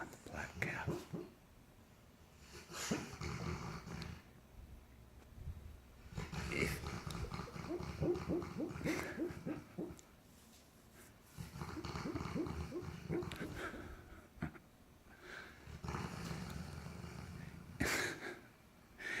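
A sleeping puppy with a curly tail makes faint snorts, huffs and low growly breaths in irregular bursts, quiet and close, with soft breathy noise between them.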